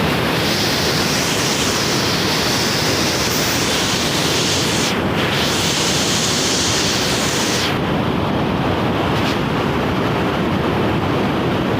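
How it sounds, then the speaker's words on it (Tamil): Water rushing hard through a barrage power station on the Bhavani river in Tamil Nadu, a loud steady roar of churning water filling the scene throughout, with brief dips in the hiss, close and continuous, no talk. "ஆனால் தண்ணி பயங்கரமாக போகுதுங்க"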